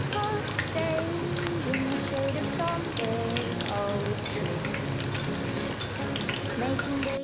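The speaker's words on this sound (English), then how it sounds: "So dip cauliflowers into the batter and fry in 350 degrees preheated oil for 5 to 6 minutes." Batter-dipped cauliflower deep fries in oil preheated to 350 degrees, a dense, loud, continuous sizzle with rapid bubbling crackle that holds steady throughout.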